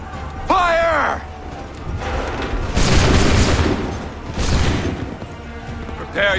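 Musket volleys boom in Assassin's Creed 3, several broad blasts with rolling tails across the stretch, loud and close, with a shouted voice and a horse whinny early on.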